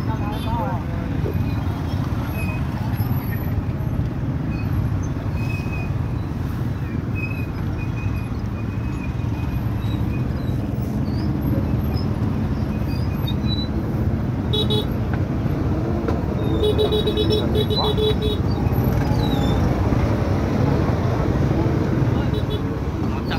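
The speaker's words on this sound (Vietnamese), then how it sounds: "đoàn khách du lịch vui sướng qua bấm còi inh ỏi" Tour vehicles on a mountain road in Ha Giang, Vietnam, sounding repeated short horn toots over constant traffic and engine noise, with people talking throughout.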